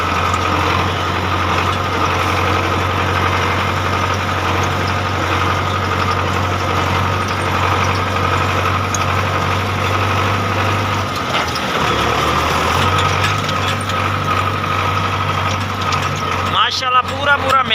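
Tractors, including Belarus models, hauling sugarcane trolleys, their engines holding a steady, loud, close low drone that dips briefly near the end before resuming.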